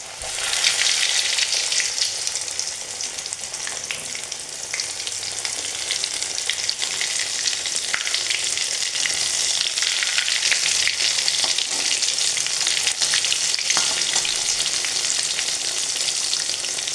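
Fish frying in hot oil, a dense, continuous sizzle that stays loud and close for the whole stretch, with faint occasional crackles and no talk.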